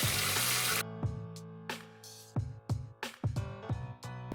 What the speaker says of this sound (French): Je vais verser un petit peu d'eau pour aller récupérer les sucres de la viande.